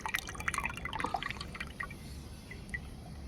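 Water is poured into a container to make homemade plant fertilizer, a close, steady splashing trickle with brief drips running throughout.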